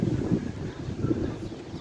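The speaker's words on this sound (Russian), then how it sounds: "Ветер, конечно, у нас очень-очень сильный." Strong, cold outdoor wind buffets the microphone with a steady, low rumbling roar that continues unbroken, with no one speaking.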